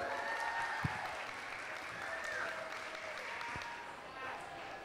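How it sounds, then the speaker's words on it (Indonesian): Faint, distant applause from an audience at a university performing arts show of a randai performance, a soft continuous patter with a couple of sharp knocks and low background murmur. "Agi tepuk tangan cik lai."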